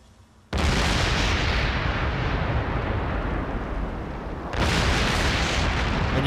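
Loud, sustained blast from an episode of Batman: The Animated Series: a sudden roaring explosion that rumbles on for several seconds, dips slightly, then surges again with a second heavy burst.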